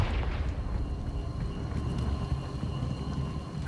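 A Confringo spell blast in Hogwarts Legacy gives a fiery, rumbling burst of low crackling noise that fades into a steady, moderately loud roar.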